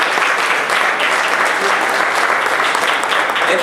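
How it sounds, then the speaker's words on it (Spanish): Dense, steady applause from a church congregation during an evangelical sermon, loud and continuous throughout with no pauses or speech. "Dale un aplauso al Señor."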